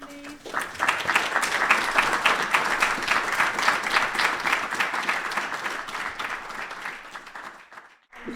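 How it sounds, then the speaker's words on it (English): An audience applauds after a traditional song at a music archive symposium, a full, sustained burst of clapping that swells quickly, holds steady, then thins and fades out near the end. "Round of applause for Richard,"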